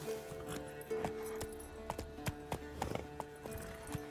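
Roach, the horse in The Witcher 3, trots with quick, clear clip-clop hoofbeats at close range, in an uneven rhythm with faint jingling tack and no talk.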